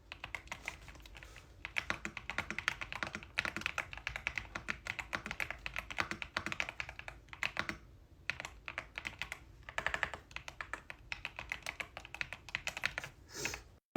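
Rapid, continuous typing on a Bluetooth wireless creamy keyboard, close and clear, a dense stream of soft muted key clacks with brief pauses and a heavier thock near the end.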